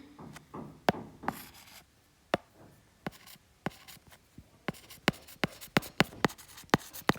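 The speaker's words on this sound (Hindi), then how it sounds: "यहाँ लिख देती हूँ" Chalk writes on a board in quick taps and strokes that come faster toward the end, close and crisp in a quiet room with no talking.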